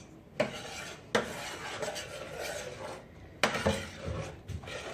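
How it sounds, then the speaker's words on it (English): Cranberries, sugar and spices stirred in a pot, with a utensil scraping and clinking against the sides in a few sharp knocks and rubbing strokes, close and fairly quiet, with no talking. "And then just stir it around."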